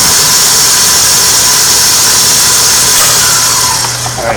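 A large commercial mixer mashes about 40 pounds of potatoes, a loud, continuous mechanical drone and grinding whir that holds steady throughout, with no talking.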